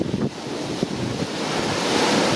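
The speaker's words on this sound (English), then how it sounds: "It's so windy." Strong storm wind roars and gusts against the microphone in a loud, continuous rushing wash, with trees and leaves tossing outdoors.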